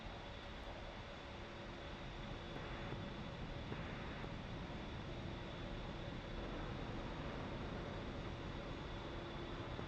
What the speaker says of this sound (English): I love listening to the Hornet howl as it takes off.